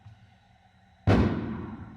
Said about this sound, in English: they're shooting fireworks